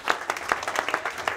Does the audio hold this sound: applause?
yes